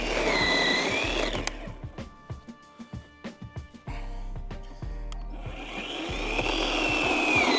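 Small chainsaw, a Stihl MS170 petrol saw or an Ozito battery saw, revving up loud and close, then idling in short sputtering pulses before rising to a sustained high rev again.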